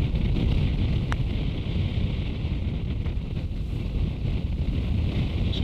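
Steady wind buffets the microphone on a seaside golf course, a dense low rumble that continues without a break, close and loud, with no voices.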